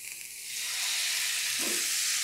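A dhapate flatbread is laid with oil on a hot tawa griddle, and a bright sizzle swells quickly from quiet into a loud, continuous frying hiss.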